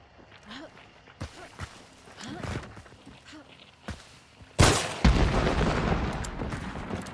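Gunfire in the shooter game Hunt Showdown: several sharp distant shots early, then a loud close blast near the middle followed by sustained heavy noise, with a voice talking over parts of it.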